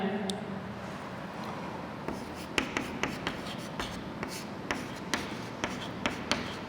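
Chalk or pen taps and scratches while writing numbers in a Class 6 maths lesson, with sharp repeated strokes in an irregular rhythm, close and moderately loud over a steady room hiss.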